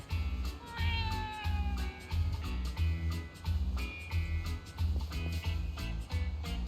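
Cat meowing in the video game Becoming The Hero: several drawn-out, rising and falling meows over a steady rhythmic music bed, moderately loud and close.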